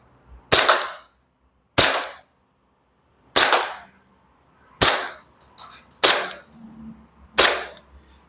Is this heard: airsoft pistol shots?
yes